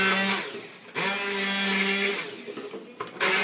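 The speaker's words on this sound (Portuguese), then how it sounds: "Isso vai ficar bom de bater no mixer" A hand mixer blends arugula pesto, its motor whirring in steady close bursts with short pauses between them.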